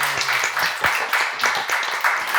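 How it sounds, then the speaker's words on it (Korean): A church congregation claps together in a steady rhythm at a seminar, many hands sounding as a string of crisp, regular beats close by. "믿는 사람만 박수 한번 쳐보세요"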